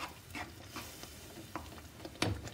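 Moong dal halwa stirred in ghee over low heat, a faint soft sizzle with a few scattered scraping strokes of a spoon in the pan.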